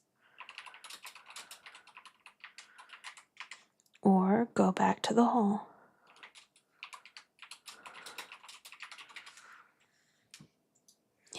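Rapid keyboard typing clatters in quick bursts, pausing while someone speaks briefly, then resuming close and crisp.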